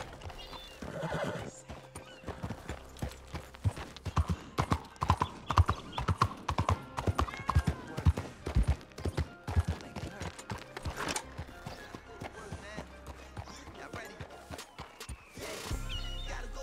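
Steady clip-clop of horse hooves with a whinny early on, over music and ambient game sounds in Red Dead Redemption.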